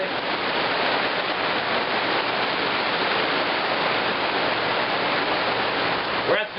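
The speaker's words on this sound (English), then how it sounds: "So look you see this little big wave of rain out there." Heavy rain pours down outside a fish house in a dense, constant roaring hiss that fills the whole span, loud and close, with a brief knock near the end.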